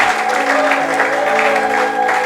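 A church congregation applauds and cheers steadily at a French-language worship service, a dense wash of clapping that holds at an even level throughout, with a sustained musical tone underneath.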